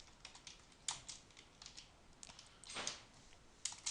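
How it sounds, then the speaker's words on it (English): Scattered keystrokes on a computer keyboard, faint and close, with uneven clicks and short pauses between taps. "I'll type that in."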